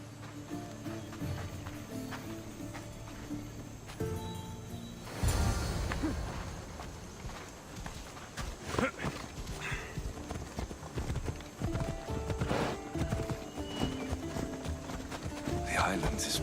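Horse hooves clip-clop at a steady trot in Assassin's Creed Odyssey, close and continuous for several seconds, with an occasional whinny, while characters converse over the ride.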